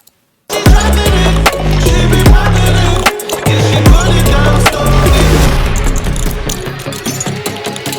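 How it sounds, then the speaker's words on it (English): Boomy 808 kick drum pattern from a phonk beat, repeating hits in a steady eight-bar groove layered with busy percussion and melody, loud and close from start to finish after a brief silence. "8-bar long kick pattern, and we just take this and go boop."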